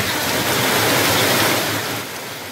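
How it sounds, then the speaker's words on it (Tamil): Heavy monsoon rain pours in the Bhavanisagar area, a dense, continuous hiss that fills the air evenly, loud and close, and dips slightly toward the end with no voices. "பவானிசாகர் பகுதியிலும் 1 மணி நேரத்திற்கும் மேலாக மழை பெய்தது."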